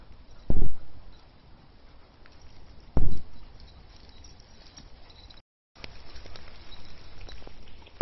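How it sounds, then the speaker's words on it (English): Heavy rain pours down outdoors at a dog daycare, a dense steady patter broken by two sharp close thumps, with no talk. "It is absolutely bucketing down."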